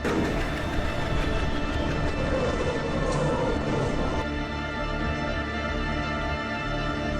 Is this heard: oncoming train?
yes